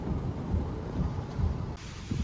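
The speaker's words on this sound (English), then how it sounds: "It's just raining real hard." Heavy rain pours steadily during a hurricane, with a dense, continuous roar and low rumbling that suggests thunder, loud and close, with no voices.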